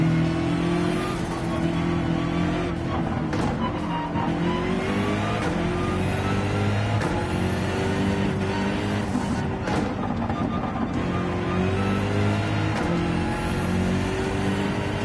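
A Gr.3 race car in Gran Turismo 7 drives through sand, its engine droning steadily and close with shifting pitch and revs, no speech, for the whole stretch.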